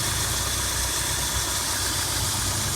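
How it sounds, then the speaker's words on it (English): A used car's engine idles with a slightly loose drive belt, giving a steady, continuous mechanical rumble with a faint rattling edge that runs unbroken from start to finish. "there's a little bit of a noise coming from that belt being a little bit loose"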